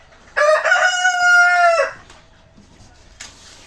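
A rooster crows once loudly and close in a chicken coop, a long rising-then-falling call, followed by quieter clucking and rustling nearby.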